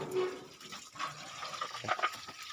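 Weak trickle of water from a solar-powered 750-watt submersible pump running on four panels in series, a faint, uneven splashing flow heard close but quiet.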